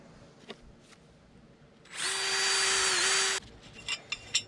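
A power tool, likely a drill with a wire brush, busts rust off a Kubota Land Pride PTO slip clutch, running as one steady loud whine of about a second and a half between quiet clicks and handling noises.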